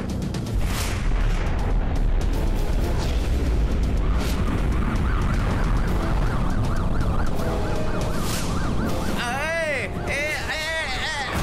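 Wailing police sirens in an animated cartoon, rising and falling repeatedly behind dense action effects and music, with the siren pattern growing clearer and closer near the end.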